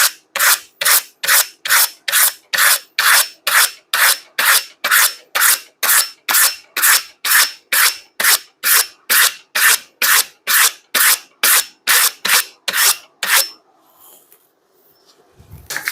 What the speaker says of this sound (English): use this to remove the burr and some of the file marks